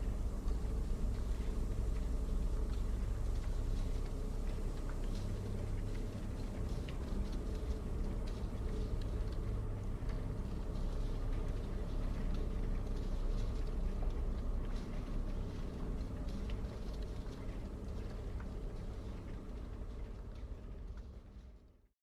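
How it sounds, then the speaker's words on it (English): A low, steady rumble like a train running on tracks plays in a horror video game, a continuous droning roar with faint rattling on top that holds evenly and then fades away at the end, with no talking. "Now it sounds like more like a train track?"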